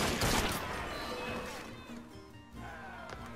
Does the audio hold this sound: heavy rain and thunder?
no